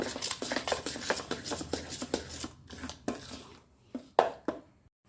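Moringa leaf powder stirred into dosa batter in a bowl, a run of soft wet scraping and squishing strokes at close range, thinning to a few scattered spoon taps near the end.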